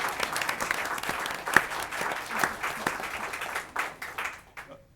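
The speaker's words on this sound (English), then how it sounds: "So give them a round of applause" A room at a school board meeting claps for two spelling bee students, a modest group producing distinct, uneven claps that thin out and fade toward the end.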